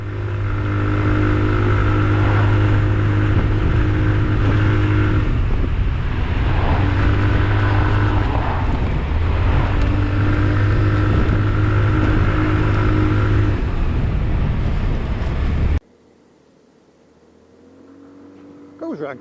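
Sinnis Shuttle 125cc scooter riding on a road, its engine holding a steady loud drone with wind rush for about sixteen seconds before cutting to a much quieter stretch.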